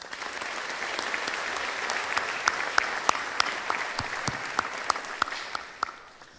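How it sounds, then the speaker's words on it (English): Graduation audience at a Temple University pharmacy ceremony applauds in a steady, moderately distant wash of clapping with scattered sharper claps, fading out toward the end. "Let's give them a round of applause."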